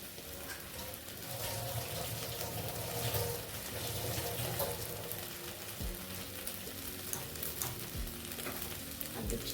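A vegetable mixture for vegetable chops, with fried nuts added, stir-fries dry in a pan, giving a steady close sizzle with scraping stirs and a few spoon knocks.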